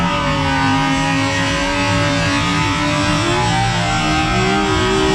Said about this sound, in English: That's just smashing off limiter